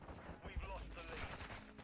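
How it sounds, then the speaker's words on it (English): Gunfire crackles from a military shooter video game, a quick cluster of muffled shots and bursts at low volume, heard over faint background game noise. "Taking fire. Multiple shooters."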